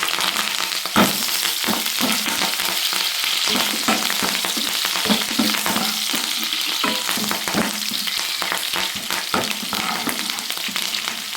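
Curry leaves crackle and sputter loudly in hot oil while fish gravy is being made, a dense, continuous frying sizzle with many sharp popping bursts throughout.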